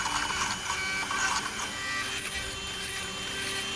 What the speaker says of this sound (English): remove this old hide glue using my Dremel tool carefully